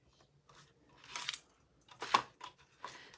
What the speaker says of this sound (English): Oh, much better scissors.